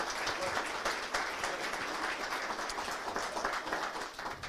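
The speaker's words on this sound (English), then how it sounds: "I think we should ask for a round of applause." Audience at a regional tourism conference applauding, a sustained, even wash of many hands clapping, fairly distant and moderate in level.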